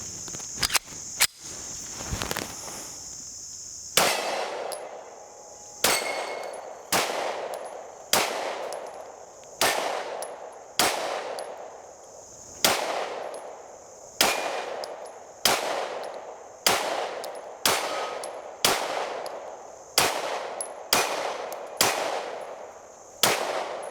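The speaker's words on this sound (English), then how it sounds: "let's get into shooting our first 20 rounds" Shots from a Stoeger STR-9S Combat 9mm pistol at an outdoor range: sharp, loud reports fired singly at a steady pace of about one per second, each with a ringing decay, over a constant high insect buzz.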